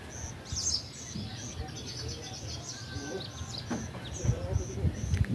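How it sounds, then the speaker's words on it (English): Birds chirp and tweet in an African village, high repeated calls over a steady insect-like hiss and low rustling background, with no one talking. "Birds are singing."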